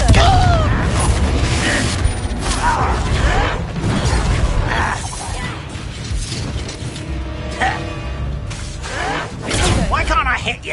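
Repeated booming blasts and crashing impacts of the Confringo blasting spell in the video game Hogwarts Legacy, with whooshes and debris noise, mixed with voices speaking throughout.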